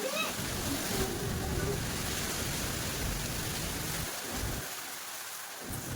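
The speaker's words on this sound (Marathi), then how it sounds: "मग काय असं काही वारं झालं," Strong wind rushes steadily before rain as a dense, broadband roar that holds nearly constant, then eases and briefly drops out near the end.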